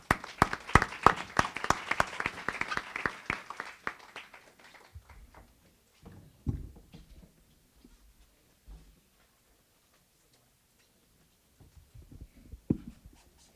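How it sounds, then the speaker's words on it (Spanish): Applause from a university panel audience welcoming a San Marcos professor, a brief burst of claps that fades out within a few seconds, followed by quiet room noise and faint shuffling. "a quien recibimos con un fuerte voto de aplausos"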